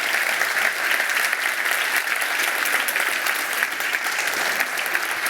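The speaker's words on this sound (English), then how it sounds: "we just did one more round of applause" An audience gives sustained applause after a keynote speech, dense steady clapping from a large room with no talk over it.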